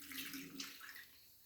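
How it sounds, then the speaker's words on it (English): Beer is poured over a ribeye steak layered with basil in a marinade dish, a soft close splashing and fizzing stream that fades after about a second. "And then you pour on the beer."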